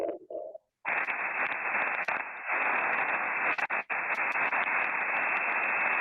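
A shortwave radio tuned to lower sideband gives a steady, fairly faint hiss of band-limited static, with a brief dropout near the start and a few clicks and dips along the way.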